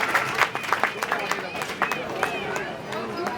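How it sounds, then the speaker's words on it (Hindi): An audience at a panchayat inauguration claps in welcome for a cabinet minister, with scattered, uneven hand claps close by and crowd murmur underneath. "आपका जोरदार तालियों से स्वागत"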